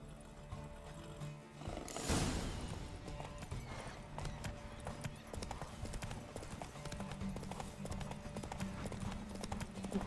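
Hooves clip-clop rapidly as a horse gallops in a race in the video game The Witcher 3, a steady, fairly quiet drumming rhythm with a brief louder rush of noise early on and a faint whinny.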